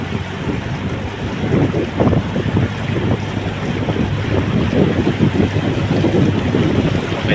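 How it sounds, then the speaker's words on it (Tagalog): Steady engine drone and water wash of a large fishing boat moving over calm sea past fish ponds, with wind buffeting the microphone throughout. "Malaki naman po yung ating gamit na bangka, kaya pwede tayong dumaan sa dagat."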